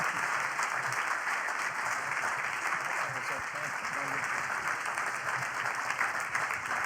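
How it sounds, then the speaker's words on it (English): Steady, dense audience applause fills the room after a live medical questions-and-answers session. The clapping is continuous and moderately loud throughout. "give yourselves a round of applause"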